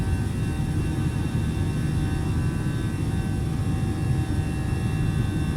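An Airbus A319's jet engines roar during takeoff in Microsoft Flight Simulator, a loud steady rumbling drone with a high whine layered on top, continuous and alone.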